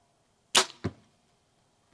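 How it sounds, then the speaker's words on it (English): An arrow leaves a budget bow with a sharp, loud crack, followed about a quarter second later by a second, duller thwack. Both are short and close, with silence around them. "I'm not sure if it's just their arrows, but man, do they crack. That's loud"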